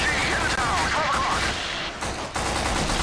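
AK rifle fire in the shooter game Point Blank on PS2, loud dense sustained bursts of automatic gunfire filling the whole moment, with brief dips between volleys and clipped game effects layered over it.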